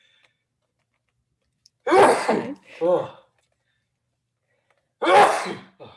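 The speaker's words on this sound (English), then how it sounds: "I think I need to sneeze actually" A loud sneeze bursts out, followed by a brief second burst, then another sneeze a few seconds later; a short word is spoken in between.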